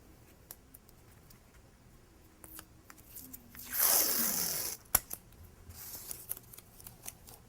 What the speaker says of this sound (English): tear off a new piece, and add it right over the top